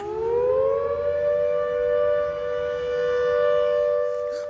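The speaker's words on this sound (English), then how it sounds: "That's a siren. Someone must have called 111." A siren winds up and holds a steady, loud wail, with no voices over it.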